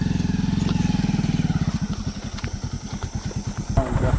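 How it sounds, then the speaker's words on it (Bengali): A motorcycle engine chugs in a rapid, pulsing rhythm near at hand on a muddy forest path, the beat loosening and slowing as it goes, with a brief rustle near the end. "এটা বাইক চালাবার রাস্তা মোটেই না, তাও আমরা বাইকই চালিয়ে যাচ্ছি"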